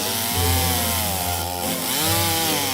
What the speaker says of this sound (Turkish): Dalı dikkatlice kesiyoruz.